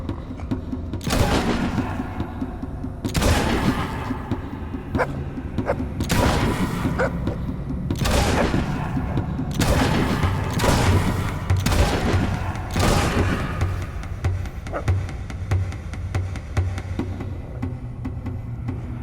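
Gunfire in the fantasy role-playing game Fable 2: about a dozen loud, sharp shots at irregular intervals, some close together, over a low rumbling game background.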